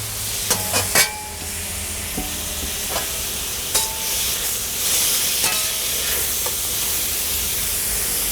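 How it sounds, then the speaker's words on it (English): Beef stir-fries in a wok for beef and broccoli, a loud continuous sizzle with a few scattered clanks and scrapes of a utensil against the metal. "I'm going to return the beef to the wok"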